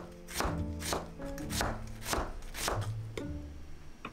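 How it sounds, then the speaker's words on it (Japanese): Repeated knife strokes slicing through onion onto a cutting board, a steady series of crisp chops, close and fairly quiet, with no talking. "次は玉ねぎを薄切りにします。"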